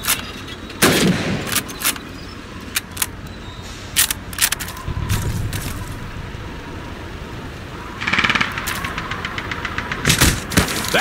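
Rifle shots fired at a training mannequin in Call of Duty 2's Red Army training, several sharp separate reports spaced irregularly over a background of ambient game noise, with a tighter burst of rapid cracks near the end.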